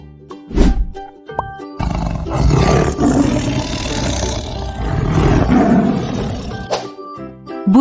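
A tiger lets out a long, deep, rumbling roar lasting several seconds, close and powerful, preceded by a few short grunts and set over light background music.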